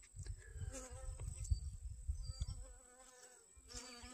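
Honey bees buzz close by while collecting pollen from sunflowers outdoors, a steady droning hum with individual bees passing near and fading.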